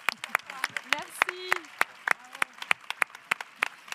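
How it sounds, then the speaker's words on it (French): A panel audience at the ChangeNOW 2023 event claps for the speakers, with scattered, uneven claps popping out against a quieter background, and some voices and high, sliding vocal sounds mixed in. "Je pense qu'on peut juste les applaudir très, très, très, très fort."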